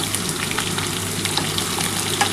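Drumstick pieces with potato frying in a pan, a steady close sizzle with light crackling pops and soft stirring scrapes, continuous and fairly loud throughout.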